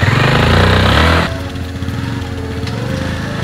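A habal-habal motorcycle taxi engine runs loud and close, revving hard before dropping abruptly to a lower, steadier idle-like rumble with light mechanical clatter.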